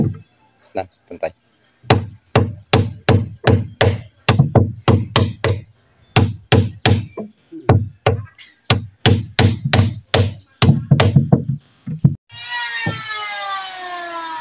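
A hammer pounds on wooden planks while a boat is being built, sharp loud blows landing in quick rhythmic bursts with short pauses between runs, ending in a brief buzzing noise.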